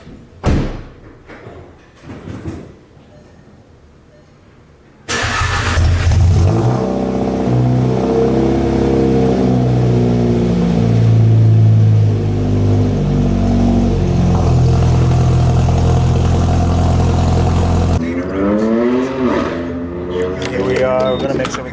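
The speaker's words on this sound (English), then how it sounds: "I will probably full throttle in from 50 just so the turbo can start to spool a little bit sooner" A turbocharged car accelerates at full throttle from about 50 mph, its engine droning loudly and rising steadily in pitch for over ten seconds, preceded by a few dull thumps and then fading into quieter road noise.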